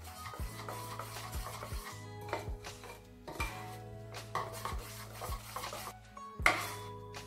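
Flour mixture being stirred with oil in a bowl, giving soft repeated scraping and rubbing strokes of a spoon against the bowl, close and quiet, with a faint steady hum behind.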